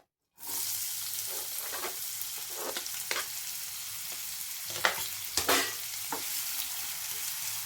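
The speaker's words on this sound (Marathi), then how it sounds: "थोडंसं तेल गरम झालं की कांदा घालायचा." Onion for paneer bhurji hits hot oil, setting off a sudden loud sizzle after a brief silence that holds steady and close, broken by a few sharp stirring scrapes and pops.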